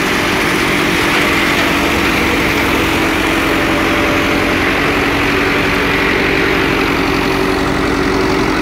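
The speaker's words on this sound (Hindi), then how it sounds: "देख लो बड़े सुकून ना चलन रहा ट्रैक्टर" A Dubang 85 tractor idles steadily close by, a continuous loud, even engine drone with a droning hum and no pauses, running beside a 5-foot wheat thresher.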